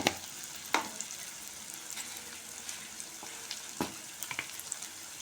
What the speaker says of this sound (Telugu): మెంతి ఆకు ఫ్రై అయింది మంచిగా